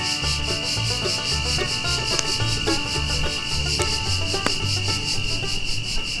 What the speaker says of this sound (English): it's highly likely you'll be serenaded, as I was, by the sound of not just crickets, but cicadas